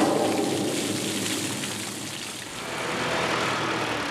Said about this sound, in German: Ich fülle meinen Wassertank aus diesem Brunnen auf.